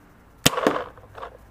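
An Invert Mini paintball marker on an ASA regulator fires a single sharp shot, followed by a second crack about a fifth of a second later as the ball passes a chronograph, with a brief fading rattle afterward.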